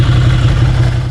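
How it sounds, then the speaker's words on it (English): A motorcycle fitted with a loud exhaust runs steadily, its deep throbbing engine note constant, close and loud throughout with no talking. "The bike is running right now, and obviously I've got a loud exhaust"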